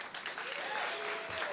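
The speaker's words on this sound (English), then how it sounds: "Let's have a round of applause for them" A crowd claps for a development team at a demolition ceremony at North DeKalb Mall: a short, full burst of applause with a faint whistle or cheer rising over it.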